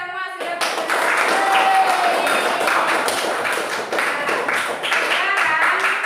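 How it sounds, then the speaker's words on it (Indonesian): A classroom of students applauding after a math presentation, a dense burst of many hands clapping that carries on steadily for several seconds, close and loud, with a few voices mixed in. "jadi tepuk tangan untuk kita semua sudah"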